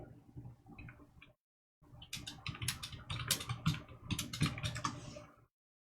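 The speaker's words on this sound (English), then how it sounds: "I'm going to have to type it in" Quick bursts of typing on a computer keyboard, irregular clicking keystrokes close and fairly quiet, a soft pause partway through before a denser run of keys.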